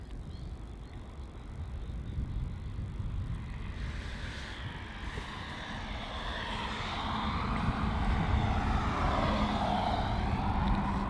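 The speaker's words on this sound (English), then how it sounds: "Departing now, we have QF620 off to Brizzy." A Qantas airliner departs Melbourne Airport for Brisbane, a distant jet roar that slowly swells and grows louder over the open-air background.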